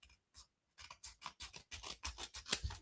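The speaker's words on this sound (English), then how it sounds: "I'm going to use my scissors here just to cut this little section off" Scissors snip through sticky die-cut paper, a quick series of about a dozen crisp, close cuts after a few isolated clicks, with no talking.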